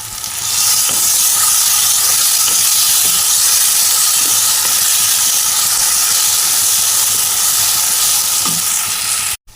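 Whole cardamom pods drop into a hot pan with ginger-garlic paste and set off a loud, continuous hissing sizzle that stays steady from start to finish before cutting off abruptly.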